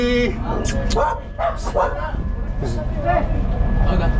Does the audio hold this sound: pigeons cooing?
no